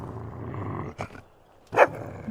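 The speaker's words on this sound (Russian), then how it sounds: "Это всего лишь славный, злой, бездомный пес." A stray dog in Fable 2 growls low and steady, then lets out two short, sharp barks, the second louder, with near-silent gaps between.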